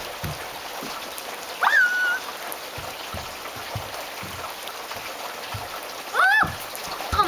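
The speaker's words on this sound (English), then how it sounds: "It's just raining and I'm already getting like sopping wet." Steady rain falling outdoors, a soft continuous patter of drops on surfaces close by, with a couple of brief higher-pitched calls rising above the wash.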